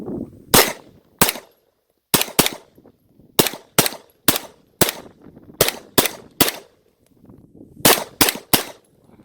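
Extar EP45 pistol in .45 ACP firing a magazine, about fourteen loud sharp shots outdoors, spaced unevenly in quick pairs and short strings with brief pauses between.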